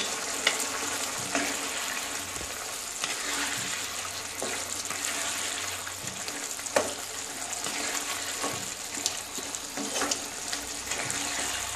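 Potatoes being added to a pan and frying with a little salt: a steady, fairly quiet sizzle with occasional soft knocks from stirring.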